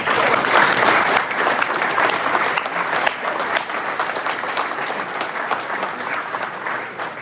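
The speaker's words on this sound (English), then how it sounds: "Let's give these students a round of applause" An awards banquet crowd gives students a round of applause at a senior awards event, sustained dense clapping throughout, loudest at the start and gradually easing off.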